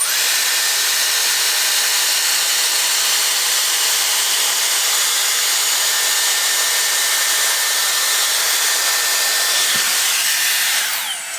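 A Dyson Airstrait hair dryer blows air in a loud, steady broadband rush that holds constant for about eleven seconds, then eases slightly at the very end.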